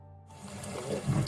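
Tap water runs into a kitchen sink while ingredients for Jamaican-style steamed fish and okra are washed, a steady close splashing that swells louder toward the end.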